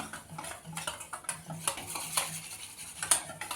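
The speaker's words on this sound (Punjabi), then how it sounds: "ਪਹਿਲਾਂ ਆਪਾਂ ਨੂੰ ਘੋਲਦੇ ਹਾਂ ਜੀ ਬੇਸਨ" Gram flour (besan) batter is whisked in a bowl for a potato pakora kadhi, with a quick run of soft, rhythmic clinking and scraping strokes of a utensil against the bowl, close and fairly quiet.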